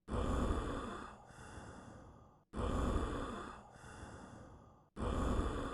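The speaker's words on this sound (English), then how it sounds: "I think that's just sickly breathing." Heavy, rasping breaths from an infected person in the video game Quarantine Zone, three long labored inhale-exhale cycles repeating at a steady pace, close and fairly loud with brief silences between them.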